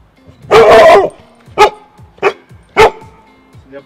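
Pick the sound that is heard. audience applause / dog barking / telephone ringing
dog barking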